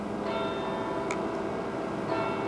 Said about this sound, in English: The church bell rings